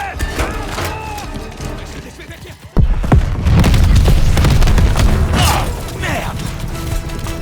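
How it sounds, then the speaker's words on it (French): A grenade blows up in the shooter Call of Duty Vanguard with a sudden heavy boom midway, then loud rumbling and battle noise keep going, and people talk in the background. "Je lance une grenade."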